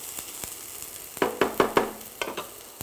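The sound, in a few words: stirring food frying in oil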